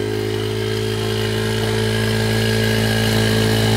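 A child's small dirt bike engine runs loud and close, a continuous buzzing drone that holds steady and builds slightly as the throttle is opened, with no talk over it.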